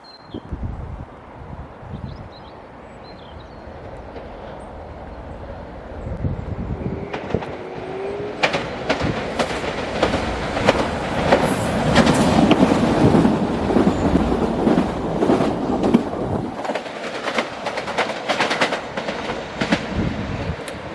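A passenger train from Lowestoft rumbles into a station and grows steadily louder, with broadband roar, rattling and clanking building over about twenty seconds as it draws close.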